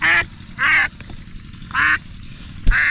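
Ducks herded in a rural Filipino yard quack in four loud bursts, each a run of nasal calls, with quieter background noise between them and no talking.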